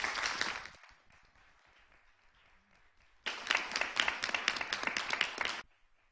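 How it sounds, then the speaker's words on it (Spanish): An audience at a talk on wills and inheritance bursts into applause. A short clatter of clapping comes first, then a lull, then a fuller round of many hands that cuts off after a few seconds. "Un aplauso para doña María Eugenia"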